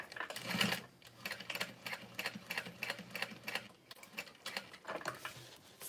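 Sewing machine stitching a U shape across tote bag connectors at a long stitch length, with quiet, regular mechanical clacks in short bursts and brief pauses, close by and with no talking.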